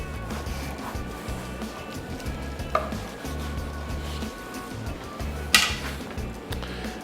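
A knife slices smoked brisket, cooked on a YS640 pellet smoker with Smokin Pecan pellets, with a soft sawing drag over low background hum and two sharp clicks of the blade against the board.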